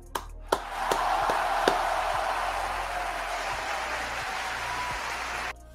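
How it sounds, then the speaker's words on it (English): Applause from a small group of people after a call to clap, a dense steady patter of hands with a few sharp early claps, held at moderate level for about five seconds before cutting off. "Let's clap it up for that."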